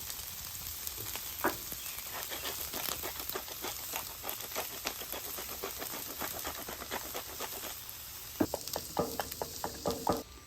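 Onions fry in oil with salt and pepper on a Blackstone griddle, giving a steady close sizzle with crackling pops and a few louder scrapes near the end, with no voices.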